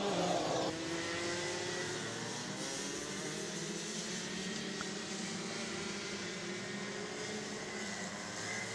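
Rotax Max racing kart engines droning steadily from a distance at a Latvian kart circuit, a continuous blended whine of several karts with gentle pitch sweeps and no voices.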